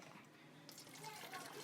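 Water pours from a glass into a cooking pot while Lahori white chickpea curry is being made, a soft splashing stream that starts partway through and runs steadily to the end at a moderate distance.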